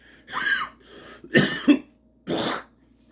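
A person coughs several times in quick bursts, close and fairly loud, with short pauses between the harsh throaty hacks.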